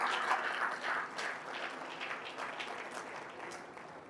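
A church congregation at a leadership summit applauding: steady, dense clapping from many hands at a distance, fairly quiet and even throughout, with no talk over it.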